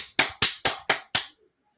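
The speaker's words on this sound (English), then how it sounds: "you could also do it by clapping" Five crisp hand claps in a steady, quick rhythm, close and loud, performed to cleanse a tarot deck, then silence.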